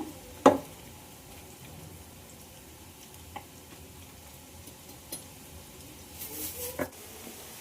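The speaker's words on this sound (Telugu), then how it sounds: "ఆయిల్లోనే పకోడీలు వేసేసుకుంటున్నాం ఆయిల్ కూడా బాగా హీట్ అయిపోయినట్టుంది" Pakodas deep-frying in hot oil, a soft steady sizzle and bubbling low in the mix, broken by occasional clicks and scrapes of a utensil near the pan.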